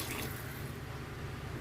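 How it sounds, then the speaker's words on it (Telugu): Water is poured into a pot of soaked, washed rice for chicken keema pulao, giving a soft, continuous rushing splash at low volume, with no talking. "వాటర్ పోసుకోవాలి."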